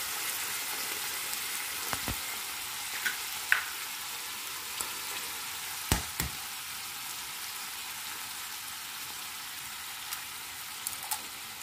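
An egg sizzles in a hot pan with a continuous, even hiss and a few scattered clicks and taps of utensils, no voices.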